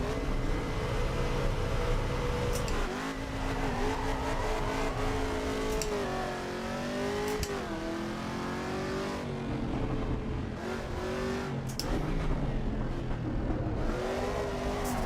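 Race car engine in Assetto Corsa EVO revving steadily with rising and falling pitch as the throttle is worked, a loud continuous drone punctuated by short shift dips and faint tire noise.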